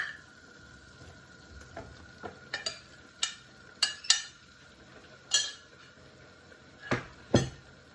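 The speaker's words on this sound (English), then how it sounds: "I'm going to go ahead and I'm going to add in the minced beef to that" Seasoned minced beef is cooked in a pan over a soft background sizzle, broken by sharp intermittent clinks and scrapes of a utensil against the pan, fairly quiet and with no talking.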